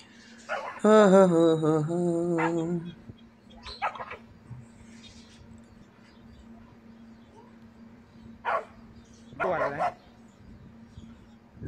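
A nearby dog confronting a python gives a drawn-out whining yelp, then falls quiet before letting out a few short, sharp barks.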